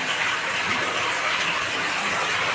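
Water gushes steadily from a new horizontal bore in a farm well, a dense continuous rushing wash with no pauses, close and loud throughout.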